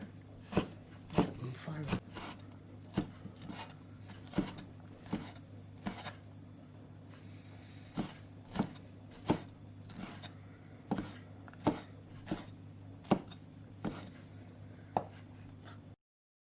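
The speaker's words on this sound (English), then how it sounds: "Cut up some Chinese preserved meat or sausage." A knife chops Chinese preserved meat or sausage on a board, about twenty crisp, evenly spaced strikes over a low steady background hum.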